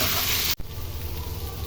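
A bitter gourd and potato bhaji sizzles in a pan, giving a close, steady frying hiss that breaks off sharply for an instant before settling into a softer crackle.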